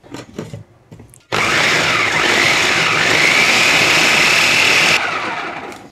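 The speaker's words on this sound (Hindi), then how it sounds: "मैंने ली है एक चॉपर और ये जो किनारे थे हम सारे इसमें डाल देंगे और इसको अच्छी तरह से हम पीस लेंगे" An electric chopper grinds bread edges into fine powder, starting abruptly after a few light knocks and whirring loudly and steadily for about four seconds before winding down.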